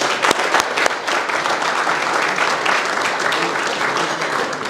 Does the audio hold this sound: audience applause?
yes